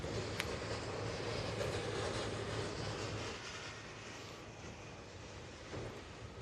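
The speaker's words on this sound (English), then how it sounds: "They are loud, those trolleys" Airport trolleys rattling at Melbourne Airport, a steady broad rumbling clatter that holds for about three seconds then eases to a lower continuous noise, fairly distant under outdoor wind, with no voices.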